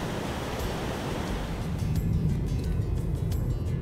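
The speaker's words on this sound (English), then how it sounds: "could it possibly be the best waterfall so far on this trip?" The Neiden River waterfall roars with a steady broadband rush of water, loud and continuous, with some wind buffeting and no talk.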